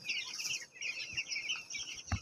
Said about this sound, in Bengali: এই গরমে মুরগি তেরো দিনে কী পরিমাণ হাঁপাচ্ছে উপরে ফ্যান থাকা সত্ত্বেও